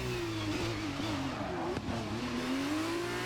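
F2 race cars in the F1 23 video game pulling away from a sprint race start at Baku, Azerbaijan: a loud, continuous engine roar rising steadily in pitch across the whole stretch, with a brief sharp transient midway.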